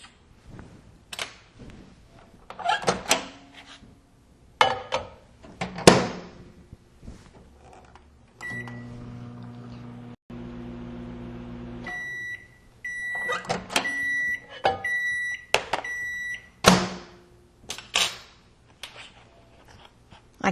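Microwave oven running to melt chocolate chips for candy, a steady low hum that stops with a few electronic beeps, set among clattering handling noises and a door clunk.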